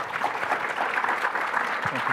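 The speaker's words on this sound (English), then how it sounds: "let's give them a quick round of applause" Brief burst of audience applause at a cloud computing keynote panel, dense steady clapping from a hall crowd.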